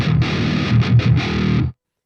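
A pitched-down electric guitar chugs low and heavy through a compressor and Saturn and Fortin distortion, with a few palm-muted pulses in the middle before it cuts off abruptly into silence.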